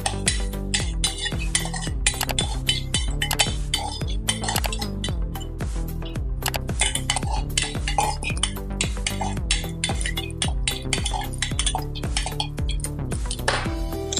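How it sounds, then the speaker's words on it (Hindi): Metal spoon repeatedly scraping and clinking in a pan while cashews, stone flower, cumin and coriander dry roast for a spicy soya chunk and potato curry; steady, busy rhythmic clatter, close and loud throughout. "और जीरा और धनिया भी है वो भी इसमें डाल देंगे और गरम करेंगे।"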